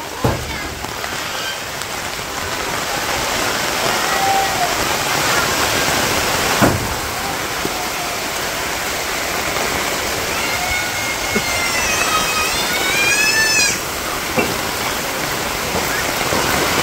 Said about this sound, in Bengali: সেই সুন্দর বৃষ্টি আইছে